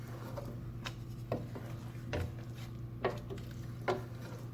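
A spoon scrapes and taps softly against a pot while egg and potato curry is stirred, a few faint irregular clinks over a low steady cooking hum.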